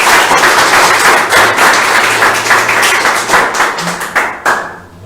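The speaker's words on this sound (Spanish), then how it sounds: "¿Cuánto le dan un aplauso al Señor?" A church congregation applauds in praise of the Lord with loud, close clapping that starts dense and steady, then thins into a few separate, sharper claps before dying away.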